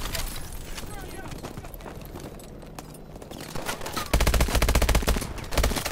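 Rapid gunfire in the Call of Duty Advanced Warfare shooter on Xbox One, dense bursts of automatic shots with a loud, heavier volley near the end, mixed with game sound effects and a voice talking.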